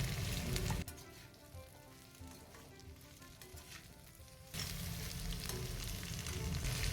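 Round slices of bitter gourd frying in a pan with a few onions, a close, steady sizzle that drops quieter after the first second and then swells back loud near the end, with no talking.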